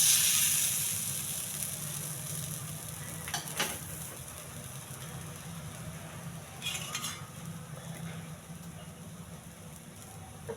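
A pesarattu, a green gram dosa, sizzles steadily on a hot pan as it is flipped. Soft frying hiss runs throughout, with a couple of brief spatula scrapes and clinks.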